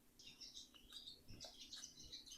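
A small bird chirps in quick, faint high tweets repeated over a couple of seconds, heard alone in a quiet kitchen setting.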